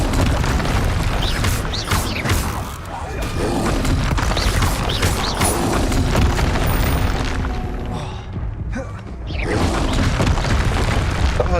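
In the Hogwarts Legacy video game, a Confringo explosion spell and other combat effects produce dense, continuous blasts, booms and crashes. The barrage is loud and close, briefly dipping before it surges again.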